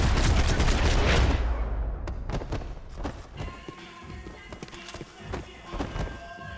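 Gunfire in the Max Payne 3 video game: a dense, loud burst of shots up front that gives way to scattered sharp cracks and thuds over a lighter ambient bed.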